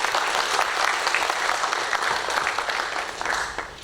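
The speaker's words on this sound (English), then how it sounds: "I'd like to give her a round of applause" A school prize-giving audience claps continuously, a dense, even wash of many hands in a hall, tapering slightly at the end.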